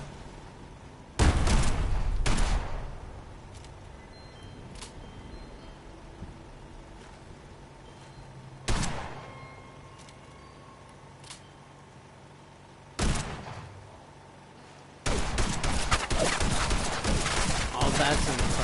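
A double-barrel shotgun fires in Fallout 76, with four heavy blasts spaced far apart and a sustained burst of noise at the end, each shot standing out clearly from quiet game ambience.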